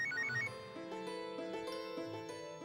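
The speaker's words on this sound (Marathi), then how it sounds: "एवढ्या उशिरा कोणाचा फोन?" A telephone rings late at night with an electronic ringtone melody, a repeating pattern of bright tones that plays fairly softly and alone.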